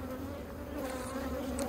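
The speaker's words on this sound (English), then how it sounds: "who doesn't like the sound of bees, eh?" Bees swarm around a freshly made three-frame beehive split, a steady, close buzzing drone with no pause.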